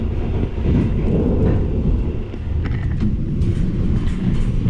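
The Parahyangan passenger train runs with a steady low rumble and faint metallic clicks and rattles over several seconds, heard close by with no one speaking.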